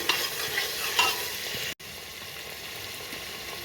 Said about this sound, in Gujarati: હલવી લઈએ આપણે એને।